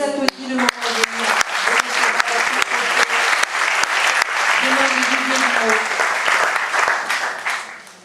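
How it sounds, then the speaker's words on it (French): An audience breaks into sustained applause, dense clapping that swells and holds loudly for several seconds before tapering off, with voices and a few louder individual claps showing through at the start. "On vous applaudit le moment venu."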